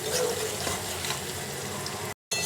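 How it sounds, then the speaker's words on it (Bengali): Black cumin and bay leaf temper in hot mustard oil in a wok, a steady close sizzling crackle with a watery bubbling edge that runs continuously before a sudden brief cut to silence. "এবার কড়াতে সর্ষের তেল দিয়ে কালো জিরে আর তেজপাতা ফোড়ন দিয়ে তার মধ্যে আদা কাঁচা লঙ্কা বাটা দিয়েছি"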